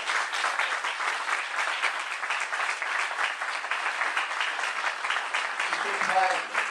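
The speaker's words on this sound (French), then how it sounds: "je voudrais que vous applaudissiez Véronique Di Costanzo, chef de pôle," Sustained applause from a crowd fills the whole stretch, steady and fairly loud, with a brief tonal sound near the end.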